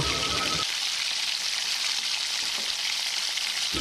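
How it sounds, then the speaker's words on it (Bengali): Diced potatoes frying in hot oil in a kadai, a dense, even crackling sizzle close by, with a brief thud near the start and little else over it. "প্রথমে কড়াই তেল গরম করে আগের থেকে ডুমো করে কেটে রাখা আলু দিয়ে ভালো করে লাল লাল করে ভেজে তুলে নেব"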